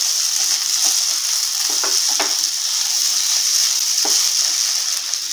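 Poha (flattened rice) mixed and cooked in a hot pan, with a steady close sizzle and a few soft scraping stirs throughout.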